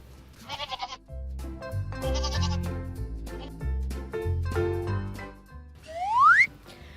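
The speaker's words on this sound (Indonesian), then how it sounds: "Kalau kamu melihat kambing, coba ikutin suaranya." A goat bleats a few times in short wavering calls over bouncy children's music, followed near the end by a rising whistle-like effect.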